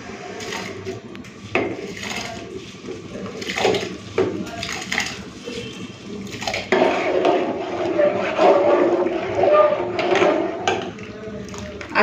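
Hot water poured into a cooking pot holding washed rice and lentils for khichuri, a splashing rush that swells midway, mixed with a few pot clatters while someone speaks.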